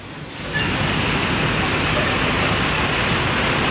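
A crane truck pulls out into busy midtown city traffic after a lift, its engine rumble blending into a steady, loud wash of roadway noise with buses and trucks nearby, and a brief high whine near the end.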